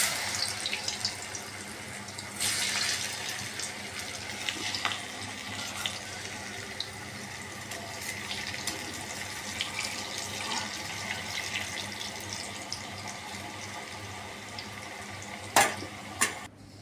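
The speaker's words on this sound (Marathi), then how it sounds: "आता मी तेलात सोडते बघा।" Coriander fritters (kothimbir vadi) frying in hot oil, giving a steady, soft bubbling sizzle throughout with a few brief louder crackles, heard close and without talk.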